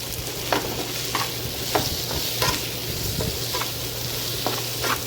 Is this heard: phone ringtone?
no